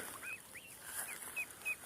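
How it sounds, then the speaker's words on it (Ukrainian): Geese grazing on young grass outdoors give a few soft, short calls, light honks and clucks spaced through the moment, fairly faint over quiet open-air background with no talking. "Красива така гусочка гарна."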